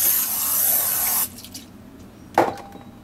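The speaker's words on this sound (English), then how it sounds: "I'm going to spray it down with some butter" Butter cooking spray hisses onto a clear pan in one loud, steady burst lasting about a second, then stops, leaving quiet kitchen room tone with a soft clink near the end.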